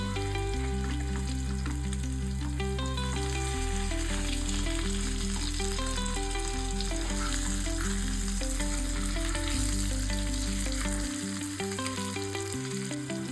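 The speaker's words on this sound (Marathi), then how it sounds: "आता आपण दुसरी साईड फ्राय करूया" Surmai fish coated in rava frying in a pan, a steady sizzle running the whole time beneath loud, prominent background music with a pulsing bass line.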